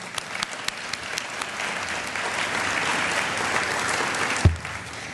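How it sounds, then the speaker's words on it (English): Audience applause fills a room at a Tri-City Chamber business luncheon: steady, dense clapping from many people, fairly loud and sustained throughout, with a sharper thump near the end. "So I'd just like to have a round of applause for John,"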